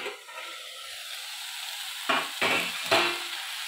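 Food sizzles steadily in a pan, with three louder bursts of crackling near the end as something is stirred or moved.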